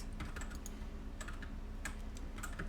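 Keys tapped on a computer keyboard while a name is typed in, in scattered quick bursts of light clicks over a steady low background hum, with no talking.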